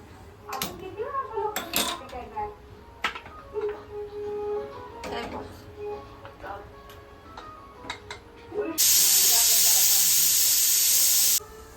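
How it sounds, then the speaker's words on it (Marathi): A loud, steady hiss of steam from a pressure cooker on a gas stove bursts in near the end after clattering kitchen sounds and a voice, holding strong for several seconds. "तर आपण गॅस पेटवून सहा शिट्ट्या करून घेऊ"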